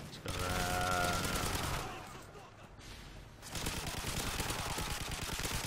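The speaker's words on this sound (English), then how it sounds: "I love this light machine gun." Light machine gun in a video game, loud sustained bursts of rapid fire, pausing for a moment before a second rattling stream resumes, with a voice talking over part of it.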